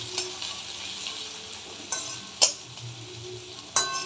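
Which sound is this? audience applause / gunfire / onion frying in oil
onion frying in oil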